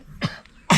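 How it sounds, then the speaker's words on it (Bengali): Two short, harsh coughs from a person with a cold, close and fairly loud, separated by a brief pause, with no talking. "ঠান্ডা লেগে কাশি হচ্ছে?"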